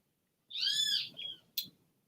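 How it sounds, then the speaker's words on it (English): A bird calls outside near trees, a single loud hooting, owl-like cry followed by a shorter second note and a brief sharp chirp, with the surroundings otherwise quiet. "this dumb bird is gonna make a whole pile of noise just because I came online"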